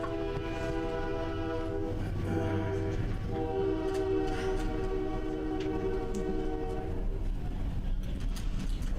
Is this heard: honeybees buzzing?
no